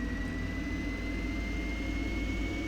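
Steady, loud jet engine hum and whine from an SC Designs F-16 Fighting Falcon fighter in Microsoft Flight Simulator, a continuous low rumble with a thin high tone held throughout, no voices.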